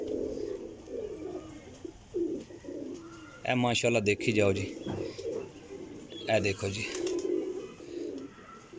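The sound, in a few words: pigeons cooing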